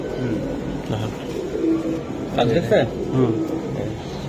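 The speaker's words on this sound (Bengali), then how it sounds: "দুই জোড়া কবুতর আছে" Racing pigeons coo in low, soft, repeated calls close by, while people talk over them for most of the time.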